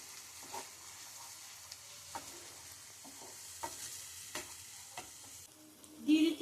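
Onion masala with ground ginger, garlic and green chilli sizzles steadily in a pan while a spoon scrapes and stirs it in repeated strokes, close and fairly quiet, with a louder clatter near the end.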